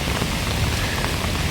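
Heavy rain pours steadily down on a Guwahati street while someone walks outdoors, making a dense, even hiss of drops hitting the surfaces all around.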